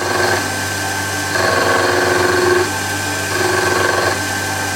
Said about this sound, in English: Putting the cut on the downstroke as I'm pulling it down towards you, so I'm not climb milling.